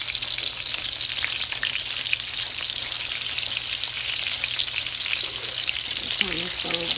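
Ground turkey cooking on a stove in a pan, a steady dense sizzle and crackle that holds unbroken throughout, close and fairly loud, with a brief faint murmur near the end.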